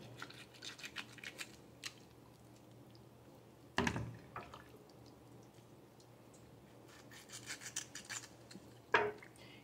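Small kitchen knife slicing through the joint of a piece of meat during late-night dinner prep, giving soft scraping rubs and two sharper crunching cuts, close and fairly quiet with no talk.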